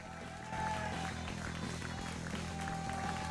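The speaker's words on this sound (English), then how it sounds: "The applause turns to cheers. Cheers turn to uproars. The crowd is cheering." Crowd applause and cheering from a video game scene play as a steady, dense wash of sound at moderate level over faint background music, with no talk.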